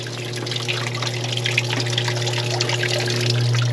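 A sump pump discharging water from a rain barrel, a steady close splashing flow of water over a constant low motor hum, even and fairly loud throughout.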